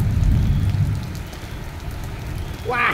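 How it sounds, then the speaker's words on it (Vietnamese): Heavy rain pours during a storm at a lychee-harvesting spot, a loud continuous wash of noise with a brief voice rising near the end. "mưa to quá các bạn ạ"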